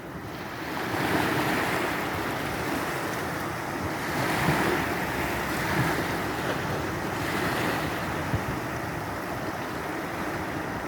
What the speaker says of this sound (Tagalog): Maalon kasi.